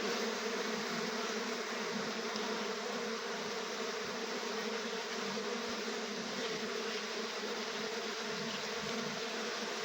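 Stingless bees hum in a steady, continuous drone while their hive and comb are moved into a box, the buzzing close and unbroken throughout, with no voices.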